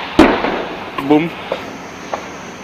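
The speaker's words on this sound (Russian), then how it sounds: "Это был Птур." A sharp, loud blast of an anti-tank guided missile rings out in gunfire-heavy game audio, followed by a few fainter distant thuds, with a voice speaking briefly in between.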